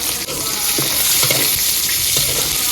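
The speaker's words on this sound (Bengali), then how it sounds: "তেল দিয়ে দিলাম, আগে চিংড়ি মাছ দিয়ে দিলাম, পেঁয়াজ কুচি দিয়ে দিলাম।" Shrimp and chopped onion fry loudly in oil, a close, constant crackling sizzle with faint stirring knocks underneath over a few seconds.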